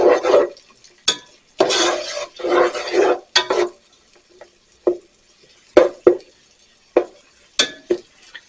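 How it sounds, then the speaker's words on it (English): Leeks sizzle in a pan on the stove while being stirred, with a run of close scraping strokes followed by sparser single scrapes and soft frying hiss between them. "And just keep stirring."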